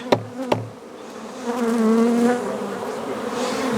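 Honeybees buzz around an open hive, a steady droning hum with wavering tones that swells and holds, preceded by two short sharp knocks at the start.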